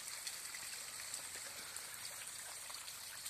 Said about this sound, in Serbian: danas sam posjetio Elvirin vodopad